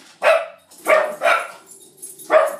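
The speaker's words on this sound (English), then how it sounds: "The dog was just barking at somebody checking their mail" A dog barks four times from inside a house, sharp and fairly close, with the middle two barks coming quickly one after the other and quiet gaps between the barks.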